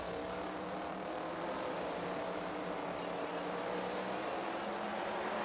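Sprint car engines racing in a video game, a continuous high buzzing engine roar that holds steady throughout with no breaks and no voices.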